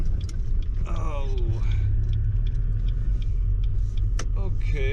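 A car creeps slowly along a road in Belton, Texas, giving a steady, close interior rumble, with a voice speaking over it and a brief whine partway through.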